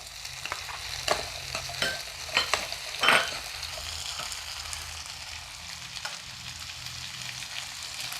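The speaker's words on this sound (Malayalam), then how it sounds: "ഇനി ഇത് നന്നായിട്ടൊന്ന് വഴന്നോട്ടെ ഉള്ളിയൊക്കെ ഇങ്ങനെ വഴരുന്ന സമയം കൊണ്ട്" Chopped medium-sized onion sautés in a pan with a steady, close frying sizzle, broken by several sharper scraping stirs near the start and middle, no voices present.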